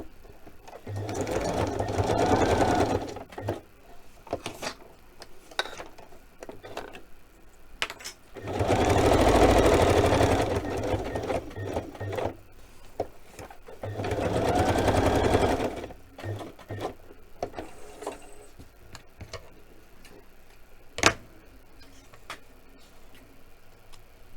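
A sewing machine runs in three bursts of straight stitching with no zigzag, each a few seconds long, separated by pauses and small clicks, close and steady.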